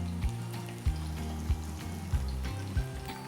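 Spoonfuls of pakora batter dropping into hot oil, five evenly spaced soft plops over a continuous sizzle with a low hum underneath, close and without talk.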